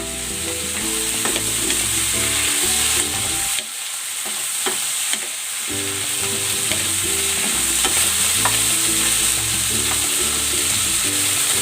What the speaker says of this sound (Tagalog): Igisa na natin tong matigas na part ng pechay.